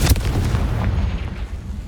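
A Confringo spell blast in Hogwarts Legacy, with a heavy low boom right at the start followed by a rumbling, decaying roar that fades over about two seconds, loud and close.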